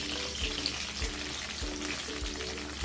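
Potato and cauliflower pieces fry in hot oil with a continuous, even sizzle, while low rhythmic thumps recur about twice a second underneath.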